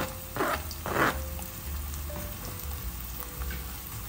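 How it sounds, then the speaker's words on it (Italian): Sliced onion and boiled potatoes frying in hot olive oil in a pan, a steady soft sizzle with two brief louder crackling bursts near the start, heard alone without talk. "Quando l'olio è caldo mettiamo una cipolla tagliata julienne."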